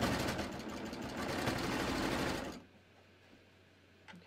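A sewing machine stitches through two layers of shirt fabric in a steady whirring run for about two and a half seconds, close and alone, then stops, leaving a faint hum.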